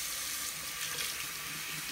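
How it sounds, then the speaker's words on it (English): Tap water runs steadily and splashes against a small plastic gate part from a PetSafe Drinkwell Platinum pet fountain, a continuous bright hiss of flowing water. "I'm going to wash the little gate."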